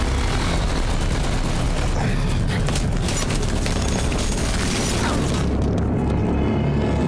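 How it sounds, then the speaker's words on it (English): A warplane roars overhead in the World War II shooter Battlefield V, its loud, steady broadband drone running the full seven seconds amid dense booms and crackling gunfire, then thinning slightly near the end. "Well, there's a plane now."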